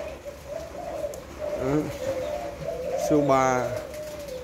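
Spotted doves imported from Thailand and Malaysia cooing at a bird seller's, two clear rhythmic coo phrases close by over a steady hum, while someone speaks briefly.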